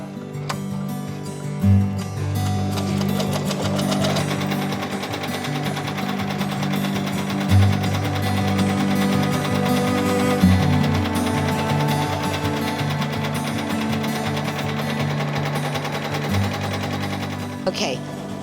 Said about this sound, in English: while it's embroidering the handkerchief